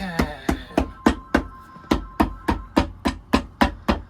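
Steady, rhythmic hammering on a Red Wing boot during resoling, about a dozen sharp metallic blows at an even pace, close and loud with a slight ring after each strike.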